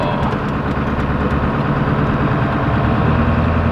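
The Power Stroke diesel engine of a 1997 Ford F350 runs loud and steady up close, a continuous low rumble without pauses.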